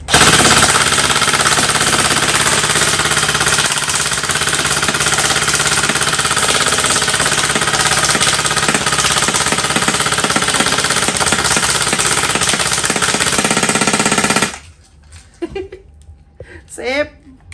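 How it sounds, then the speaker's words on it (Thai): A CYMA Thompson M1A1 Chicago airsoft gun, model CM.051 with metal body and wood-pattern plastic furniture, fires a long, loud, unbroken full-auto burst for about fourteen seconds before stopping abruptly, leaving brief faint handling sounds. "สนุกเลยครับมันคือปืนกลดีๆนี่เองนะครับลูกกระสุนขึ้นไม่ขาดเลยนะ"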